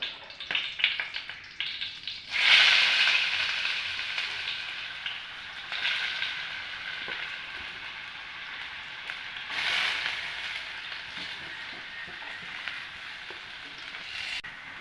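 Sliced onions sautéing in a pan with spices for a Kerala-style curry, giving a steady soft sizzle that swells loudly at the start and eases to a lower, even crackle with brief surges, no voices over it.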